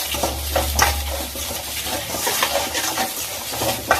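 Small onions with turmeric and salt sizzle in a pan while a spoon stirs them in quick scraping strokes, close and loud, with a low rumble at the start and no voices.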